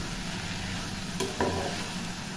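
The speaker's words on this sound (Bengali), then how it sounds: "এবং এই সব কিছু দেওয়ার পরে আবার খুন্তির সাহায্যে খুব ভালো করে নাড়িয়ে নিলাম।" Cauliflower stem chorchori with mustard paste and lentil dumplings sizzles steadily in a pan while a spatula stirs it, a few clear scrapes and knocks standing out over the constant loud frying hiss, nearby and without speech.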